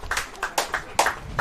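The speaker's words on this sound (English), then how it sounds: "the Broad Beach crowd roars" Lawn bowls crowd at Broad Beach applauding at the women's singles grand final, clusters of scattered claps rising and falling in uneven bursts, moderately close.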